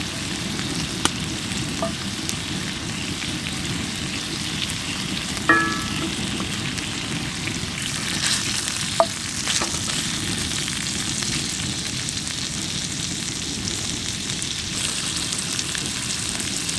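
Butter frying in a pan inside a hot tent during winter camp cooking, a steady close crackling sizzle with a few faint clinks.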